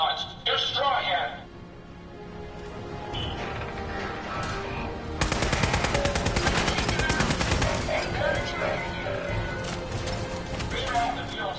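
Rapid carbine gunfire from hostile robots in Fallout 4 rattles in a dense, loud burst mid-clip, set against game noise and a speaking voice.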